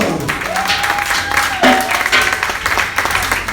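A church congregation applauding loudly and steadily, a dense wash of clapping with a sustained tone running through it and brief voices mixed in.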